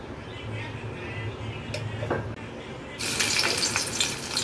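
Garlic sizzles steadily in a hot pan, a soft continuous crackle that grows brighter and louder near the end, with faint clinks in between.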